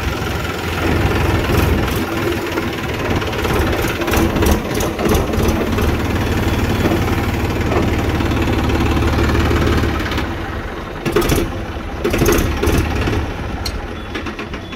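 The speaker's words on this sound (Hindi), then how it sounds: "चलिए दोस्तों थोड़ा सा आपको चलाकर दिखाते हैं। और भी तीसरे गियर में ही उठ जाता बिल्कुल आराम से ट्रैक्टर।" Massey Ferguson 7235 tractor engine running steadily while driving in third gear, a loud, continuous low diesel rumble with a slight dip in level near the end and no talking.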